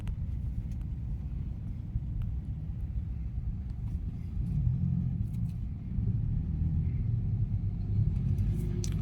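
Late-morning road traffic on the SRP road in Cebu makes a continuous low engine rumble that swells slightly midway, with no voices.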